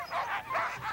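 Dogs at a dog race in Shishmaref, Alaska give three quick yips or short barks in rapid succession, loud and close.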